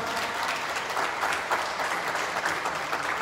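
Audience applause at the start of the final game of the Kato P World Cup championship, a steady full round of clapping from a crowd lasting the whole stretch without letting up.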